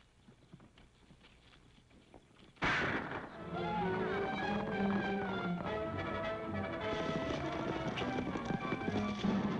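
Rapid hoofbeats of several racehorses galloping in a race, loud and continuous, thundering in after a quiet start with a rumbling crowd behind.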